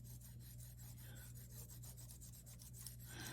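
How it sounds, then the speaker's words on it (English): Paper being burnished by hand over clay, a faint, quick rhythmic rubbing with repeated short strokes close up, steady over a constant low hum. "Take the paper and burnish."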